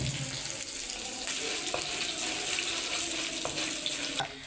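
Pieces of coconut sizzle in a hot pan already spitting with popped mustard seeds and curry leaves, a dense steady hiss broken by occasional sharp crackles, close and loud with no voices.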